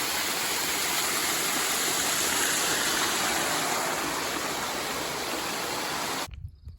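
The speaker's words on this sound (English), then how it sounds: "This is the trail, it's a literal waterfall." Water rushing steadily down a rocky mountain trail in the White Mountains, a dense, loud, continuous roar like a small waterfall close by, cutting off abruptly just before the end.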